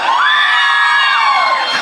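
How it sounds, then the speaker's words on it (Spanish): A crowd at a contest event in Costa Azul roars with cheers and shouts, and a rising whoop stands out above the steady, loud wall of voices from start to finish. "Aplauso para Dariana"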